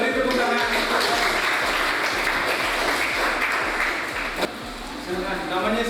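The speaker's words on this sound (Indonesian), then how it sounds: "Beri tepuk tangan." A classroom audience gives a dense, sustained round of clapping that stays loud throughout, with a slight dip near the end before picking up again.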